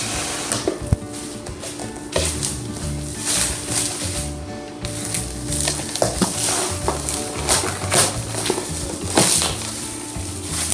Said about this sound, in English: So I'm gonna cover it with the saran wrap.